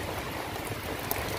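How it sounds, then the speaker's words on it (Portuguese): Steady rain falls across green countryside, a dense, even hiss of drops on surfaces with one brief sharper patter. "A mata também já tá branca de chuva."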